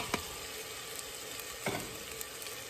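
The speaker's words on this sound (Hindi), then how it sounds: "तो ये लहसुन अदरक भून रहा है" Garlic, ginger and ground onion fry in a pan for a taro leaves curry, a soft continuous sizzle with a couple of brief stirring scrapes.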